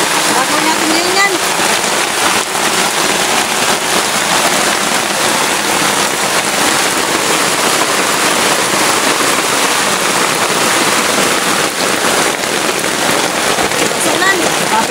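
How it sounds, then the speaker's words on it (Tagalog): Steady, loud downpour of heavy rain pounding a surface, dense hiss throughout with scattered sharper drops. "Lakas ng ulan"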